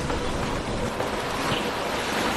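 Floodwater from heavy spring snowmelt roaring through spillway tunnels deep inside a dam on the Colorado, a dense continuous rushing wash with no break, loud and close.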